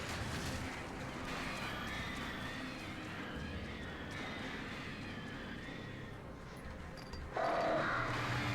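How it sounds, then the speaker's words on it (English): Crows in the video game Alan Wake, harsh cawing and wing noise massed into a dense, loud, continuous wash, swelling sharply near the end. "Birds, birds, birds, birds, birds."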